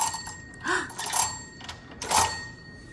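A bright electronic hotel-room doorbell chime rings twice in quick succession, close by, with a steady faint tone lingering underneath.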